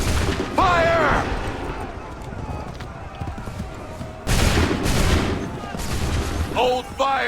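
Musket volleys crack out in Assassin's Creed 3, a dense loud fusillade of overlapping shots rolling across the battlefield, with shouted commands between bursts and a second heavy volley partway through.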